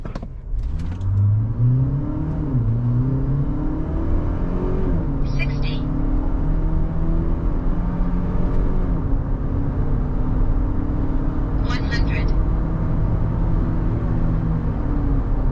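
A GWM Tank 500 in sport mode accelerating from standstill toward 100 km/h, its engine note climbing and dropping through gear changes, steady and fairly loud, with someone talking over it.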